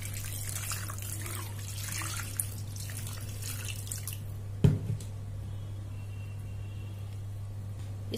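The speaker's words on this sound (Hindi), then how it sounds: "अब इसमें पानी ऐड करेंगे।" Water is poured into a bowl of homemade butter: a soft, steady splashing rush for several seconds, then a single knock and a low, quiet background hum.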